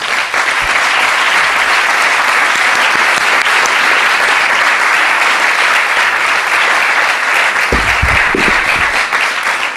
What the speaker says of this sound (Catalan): Joan Garriga, un aplaudiment per ell.